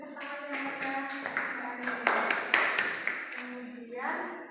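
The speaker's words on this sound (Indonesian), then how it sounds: "Beri tepuk tangan yang meriah" A class of children in an Islamic prayer-etiquette lesson claps in scattered, uneven bursts that swell and fade, mixed with voices talking over the clapping.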